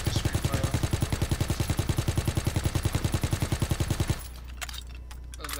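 Rapid automatic gunfire in Call of Duty WW2 pounds in a fast, even burst of about four seconds, loud and close, then stops abruptly, leaving a few faint clicks and rattles.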